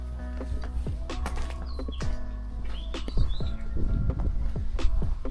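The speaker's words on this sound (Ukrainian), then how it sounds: "Пташки співають" Small birds chirp and tweet outdoors in a French town, bright repeated calls scattered over steady street ambience with faint footsteps.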